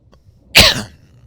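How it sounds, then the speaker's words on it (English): A single sharp cough, close and loud, bursting out briefly against near silence. "Sorry, I got a cough."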